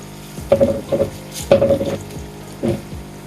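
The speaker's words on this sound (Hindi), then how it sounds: "प्याज को हमने ब्राउन करना है।" Onions sizzle and fry in a pan for tikka pulao, with several bursts of stirring and crackling over a steady hiss, close and fairly loud.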